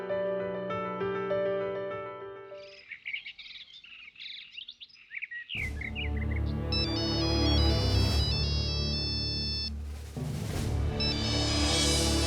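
A mobile phone ringtone plays loudly and nearby: a melodic electronic tune, then a chirping birdsong-like passage, followed by a fuller, louder musical ring continuing steadily to the end, with no talking.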